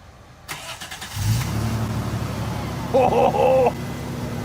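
A Toyota 4Runner fitted with a custom exhaust cranks briefly and fires up, settling into a steady, deep idle rumble close by, while a person speaks over it near the end.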